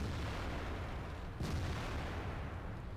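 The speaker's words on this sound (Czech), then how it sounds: "S tím tankem tady byla artilérie." Artillery fire in the World of Tanks video game: one muffled distant boom about halfway through, with a steady rumble of battle noise beneath it.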